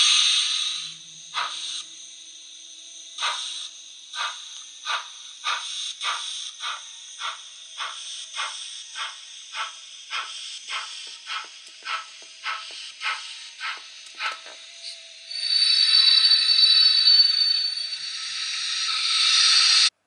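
A Hornby Prussian G8.1 model steam locomotive with a fitted sound decoder gives a steady run of rhythmic chuffing hisses that speed up, then a longer, louder burst of steam hiss near the end.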